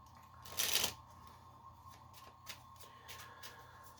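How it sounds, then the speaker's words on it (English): A deck of playing cards riffles in one loud, close burst, followed by several softer card snaps and squaring taps at a magic table, with no talking. "Give the deck a nice little shuffle."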